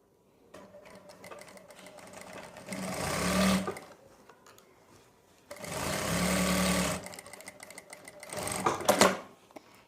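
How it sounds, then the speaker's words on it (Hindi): Sewing machine stitching a seam in fabric for fitting elastic on pants, running in two sustained bursts with a shorter third burst, steady whirring motor and rapid needle chatter, close and fairly loud with no talk. "अब हम इस पर सिलाई लगाएंगे। ½ इंच कपड़ा छोड़ के हमें सिलाई लगानी है।"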